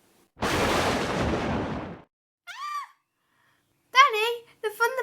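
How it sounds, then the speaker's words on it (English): A loud cartoon thunder bang in a children's animated thunderstorm scene, a single broad crash lasting about a second and a half and fading, followed by short children's voices. "the thunderbangs are very loud"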